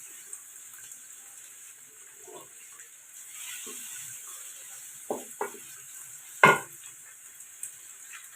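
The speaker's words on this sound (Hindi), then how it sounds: "प्याज को हमने भून लेना है।" Onions fry in just a spoonful of oil, a faint steady hiss, with a few louder clicks and knocks from stirring near the end.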